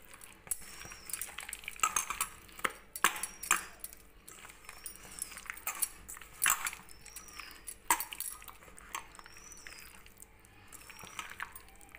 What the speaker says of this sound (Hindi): अब सारे चीज़ों को अच्छे से मिला लेंगे।